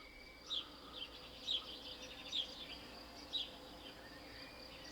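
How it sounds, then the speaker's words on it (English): Crickets chirp outdoors on a sunny day, faint repeated bursts spaced about once a second over a quiet background hiss. "I don't know if you can hear the crickets making a row."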